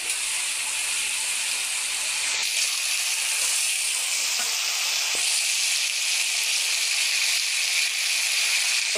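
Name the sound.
kakli fish and tomato cooking in a pan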